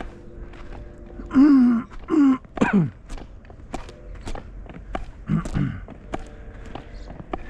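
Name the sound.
throat clearing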